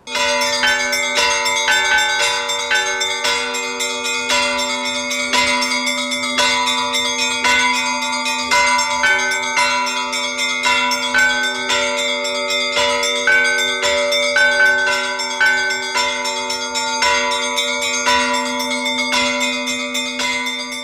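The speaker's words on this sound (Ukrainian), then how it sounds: "Вечірній дзвін, сполох, благовіст, дзвоник, музичний інструмент, система оповіщення" Church bells peal continuously and loudly, several bells with layered ringing tones struck in a steady overlapping rhythm for the whole stretch, with no voices.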